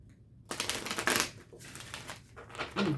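A run of dry, papery shuffling of tarot cards that rises and falls in quick riffles for a few seconds, with a louder burst near the end, fairly close.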